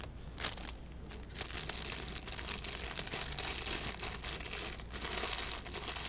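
Plastic packaging of wax melts crinkles and rustles steadily up close, a continuous crackly handling noise with no voices over it.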